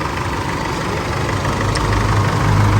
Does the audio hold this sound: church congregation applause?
no